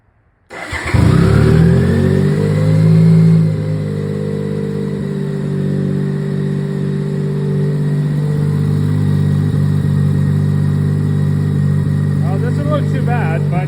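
A BMW K75 motorcycle engine starts after a brief silence, revs up for a few seconds and then settles into a steady, slightly uneven idle. It runs loud and close, and the idle continues to the end.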